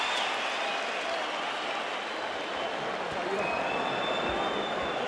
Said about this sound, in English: And the crowd appreciates both.